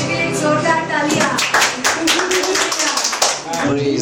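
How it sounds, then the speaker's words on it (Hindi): A church congregation claps loudly together, a dense and sustained patter of many hands under voices talking and calling out. "यीशु के लिए जोरदार तालियां।"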